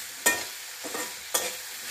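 Chunks of jackfruit stirred through hot oil tempering in a pan for a Malvan-style vegetable dish, three distinct scraping stirs with a soft sizzle running underneath, close and moderately loud, no talking.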